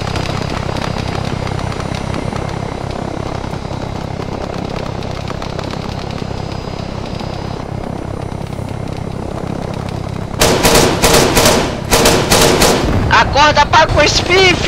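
Gunfire in the Arma 3 Apex King of the Hill game on Tanoa, with a loud dense rumble of battle followed by sharp bursts of rapid automatic shots. Faint voices sit low in the mix.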